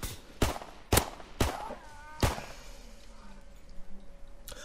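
Pistol shots in a hardcore search and destroy match in a video game, five sharp, loud reports spaced irregularly over a few seconds, with faint game ambience and a low steady hum between them.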